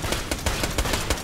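Rapid automatic gunfire in Borderlands: The Pre-Sequel, a dense stream of sharp cracks in quick bursts, loud and continuous throughout.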